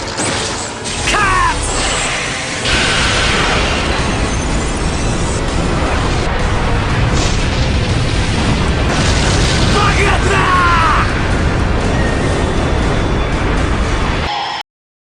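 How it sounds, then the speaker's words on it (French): A huge, sustained anime explosion from Deidara's clay art in Naruto roars loud and dense for nearly the whole stretch, with crackling bursts and rumbling debris before cutting off abruptly at the end. "Et vous allez voir, l'explosion, elle est magnifique."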